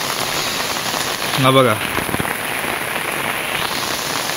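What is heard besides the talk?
heavy rain falling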